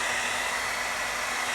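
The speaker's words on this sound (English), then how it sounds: "I've got to use the hairdryer to blow it that specific direction" A hair dryer blows at full power right next to the microphone, a loud continuous whooshing roar with a steady motor whine, used to push melted crayon across a canvas.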